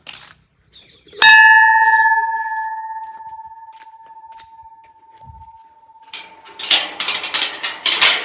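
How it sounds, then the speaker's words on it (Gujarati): A temple bell struck once, loud and close, rings with a long, clear tone that slowly fades over several seconds before footsteps and clattering noises follow. "ઘંટો વગાડવા"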